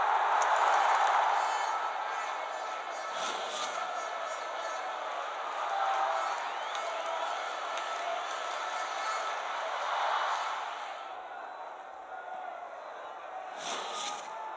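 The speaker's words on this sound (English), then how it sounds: "And the crowd are well behind their team now." A stadium crowd in the soccer video game Dream League Soccer 2017 gives a steady, loud roar that swells at times. Match commentary runs over the crowd noise.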